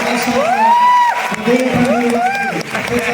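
A large audience at a university TEDx event in an auditorium cheers and whoops loudly to welcome a professor, with rising whistle-like shouts over crowd noise and voices throughout.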